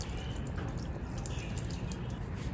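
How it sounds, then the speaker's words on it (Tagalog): Running tap water used to rinse a bee sting, a steady soft splash and patter of water with faint drip-like accents, close and fairly quiet, without talk. "hugasan natin with running water at soap"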